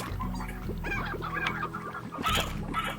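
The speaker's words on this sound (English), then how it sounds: "So I will shoot 2 hens into there." Hens in Slime Rancher cluck and squawk in a busy, close cluster of short chattering calls, with a louder burst of clucking near the end.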